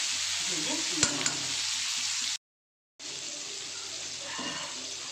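Capsicum and onions sizzle in a pan with a pinch of salt, a steady close hiss with a few stirring clinks, broken by a brief silent gap before the frying resumes.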